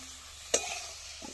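Fried potatoes stirred into a spice masala for aloo dum, a low sizzle with one sharp spoon scrape against the pan near the middle, very brief.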